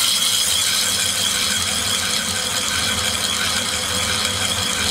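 A diamond horizontal sharpening machine turns at slow speed, giving a steady, close mechanical whir with a faint grinding texture that stays constant and loud throughout.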